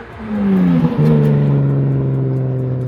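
A BMW F82 M4 engine with aftermarket exhaust revs up close and loud, climbing briefly, dipping, then holding a throaty, sustained exhaust drone.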